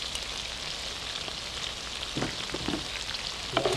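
Chili, ginger, lemongrass and garlic sizzle steadily in hot oil in a pot for a Thai pork curry cooked over a coal pot, a continuous crackling fry with a few louder pops and stirring knocks near the end.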